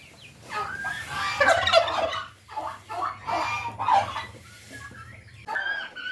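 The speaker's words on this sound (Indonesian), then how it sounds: "kalkunnya lagi sarapan" Several turkeys gobble and chatter in overlapping bursts over a steady low hum, fairly close, with other fowl calls mixed in.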